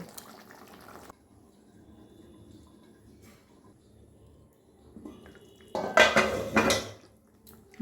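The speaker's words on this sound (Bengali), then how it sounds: "ঢেকে দেব" A lid goes onto a pan of rui fish curry with a clear clattering metal clank near the end, after a quiet stretch of faint kitchen noise, close by with no talk.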